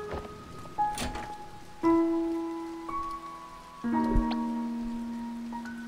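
Rain falls steadily in the game To The Moon, a soft continuous patter heard alone, with no voices, beneath sustained music-like tones that swell in a few places.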